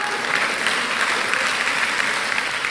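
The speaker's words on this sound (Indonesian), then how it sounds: "Saudara tepuk tangan ya." Church congregation clapping during a sermon, a steady dense wash of many hands applauding together, even and sustained throughout without gaps.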